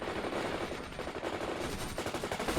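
Steady, continuous machine gun fire in the real-time strategy game World in Conflict, a dense rattling stream of rapid shots holding at an even level with battle noise behind it and no voices.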